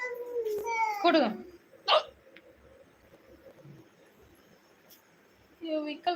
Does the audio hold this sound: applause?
no